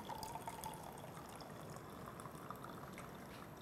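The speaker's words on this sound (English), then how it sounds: "the first red container, I am pouring the... Cold water" Cold water is poured into a red container in a science mixture demonstration, a soft, faint continuous trickle and splash lasting a few seconds with no voices.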